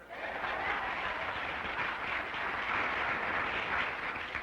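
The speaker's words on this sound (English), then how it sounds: "I don't like the way you're clapping tonight." Applause from an audience at a 1960s civil rights rally, a dense, steady wash of clapping that holds evenly for the whole stretch without pause.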